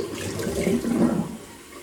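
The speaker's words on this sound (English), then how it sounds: "while I'm running the tap there" Cold water runs from a tap at a sink during a wet shave with a razor and badger brush, a steady close splashing rush that swells briefly and then eases.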